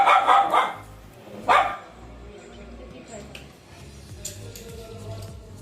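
A house dog gives two loud, sharp barks close by in the opening seconds, then falls quiet while people talk and faint ticking continues.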